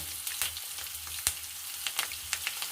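Freshly grated raw ginger and turmeric hit a hot pan while mango chitranna is being made. Soft, close frying crackles come in short irregular pops.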